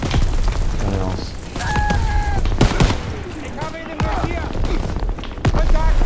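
Bursts of rifle and machine-gun fire crackle repeatedly through a World War II Normandy landing video game battle, loud and dense with booms, while a player talks over the shooting.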